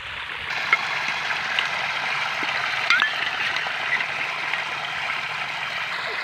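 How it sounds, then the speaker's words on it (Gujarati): A steady stream of water flowing in a farm irrigation channel gurgles continuously at close range, with a few small splashes and no talking. "પણ તો અહીંયા ધોરીએ પાણી જાય"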